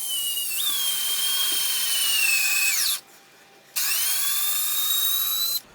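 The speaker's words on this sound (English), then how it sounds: "we'll try driving a 2-inch screw in and out" A Fanttik NEX L1 Pro 3.6V cordless screwdriver drives a 2-inch screw, a high motor whine that rises and slows under load, pauses, then starts again, close and loud with no voices.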